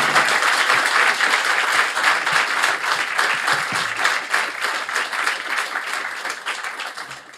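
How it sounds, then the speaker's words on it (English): An audience at a live film festival event applauds loudly, dense clapping that holds steady for several seconds before tapering off slightly toward the end. "Round of applause for Christine Vachon."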